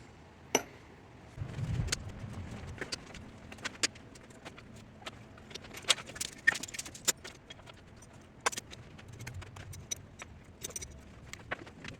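A handful of long 3-inch screws jangling and clinking against one another, with irregular metallic chinks and rattles spread over twelve seconds, close by and moderately quiet.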